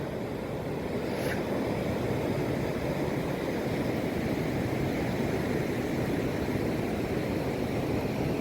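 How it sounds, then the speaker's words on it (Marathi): Sea waves wash continuously onto the beach at Vetye, a steady broadband roar of surf with wind noise across the microphone and no clear individual wave breaks. "खूप सुंदर असा बीच आहे बघा मित्रांनो आपण नारळ अर्पण केलेला आहे समुद्राला"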